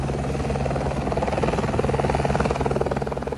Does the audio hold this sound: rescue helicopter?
yes